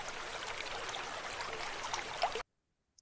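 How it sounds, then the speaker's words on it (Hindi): Water flowing steadily in a stream, a continuous broadband rushing trickle that holds an even level for over two seconds and then cuts off abruptly into silence. "This is the water."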